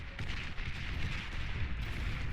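Artillery guns in the strategy game Beyond All Reason boom in a dense, continuous barrage, a low rumbling roar of overlapping blasts with no clear gaps.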